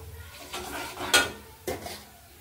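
Dal with bottle gourd being stirred in a cooking pot, a few separate scraping clinks of a spoon against the metal, fairly close, with a louder knock midway and another near the end.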